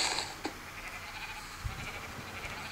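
A short sheep bleat from a Minecraft sheep being hit, with a faint game-world hiss behind it and a couple of soft thumps; no speech.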